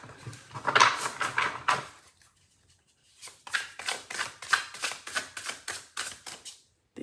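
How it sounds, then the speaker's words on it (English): Tarot cards shuffled by hand in repeated riffles or cuts, a rapid train of crisp papery flutters and slaps close up, with a short quiet pause early on before the shuffling resumes. "I've already shuffled, but I will do another just now"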